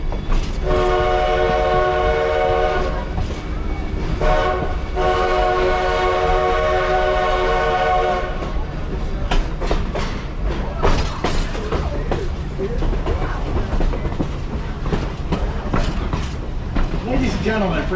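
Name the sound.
Black Hills Central 1880 train running on rails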